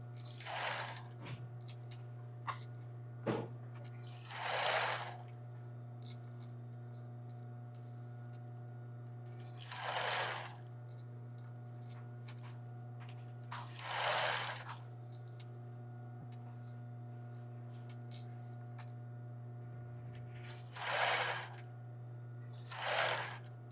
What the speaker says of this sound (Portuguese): Comecei a costurar, dei um pequeno retrocesso.